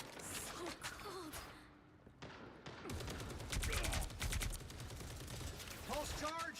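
Pulse cannon firing in the Marvel Rivals video game, heard as bursts of energy-weapon blasts and crackling shots amid game effects, with some voice sounds mixed in.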